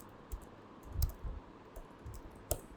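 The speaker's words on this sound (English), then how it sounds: "manually typing" Sparse, faint clicks of keys being tapped on a computer keyboard during typing, a few isolated strokes with quiet gaps between them.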